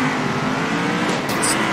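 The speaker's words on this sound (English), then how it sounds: "Yeah, listen to me rev." Race car engine in the racing video game Circuit Superstars, a steady loud motor drone that holds constant with a brief higher whine near the end, no talking.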